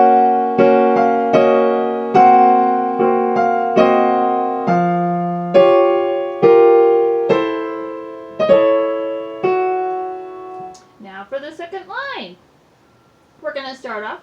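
A solo piano plays Khatchaturian's Waltz from Adventures of Ivan, starting at the top of the second page: clear, close, evenly paced chords and melody notes in waltz rhythm, each decaying, followed by a brief spoken voice at the end.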